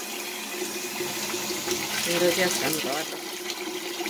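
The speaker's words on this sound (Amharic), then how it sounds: "ውሃ አድርግበትና አስቀምጠዋለሁ።" Water poured from a container onto washed maize kernels in a bowl, making a steady splashing trickle that swells in the middle, while someone talks over it nearby.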